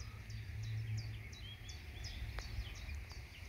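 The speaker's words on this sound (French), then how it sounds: "Je sais pas si vous entendez, mais il y a plein d'oiseaux." Small birds chirp and call in trees a little way off in a wet grassy meadow near a stream, repeated short tweets over steady outdoor background noise with a low rumble.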